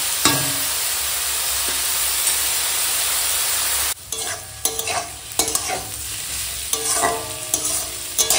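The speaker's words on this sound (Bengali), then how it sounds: "এই বাঁধাকপির সঙ্গে কিন্তু এই ইয়েটা আলুটা এরকম রান্না হচ্ছে" Cabbage and potato fry with cumin and green chili in a hot pan, giving a loud, steady sizzle that gives way to repeated stirring scrapes and clatters of a spatula.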